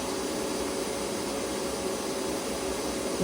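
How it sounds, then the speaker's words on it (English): Vacuum running beside a Monport 100 watt MOPA fiber laser engraver working on brass, a steady faint broadband whoosh with a constant tonal hum, no talking. "you can hear the vacuum running in the background too"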